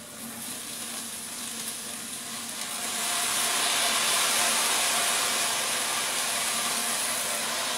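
Onions fry in a pan with a steady, close sizzling hiss that grows louder and fuller partway through and then holds, with no talking.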